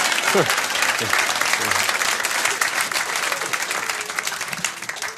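A stand-up comedy audience applauds steadily, dense loud clapping from a large crowd that holds for several seconds and then begins to thin out at the end.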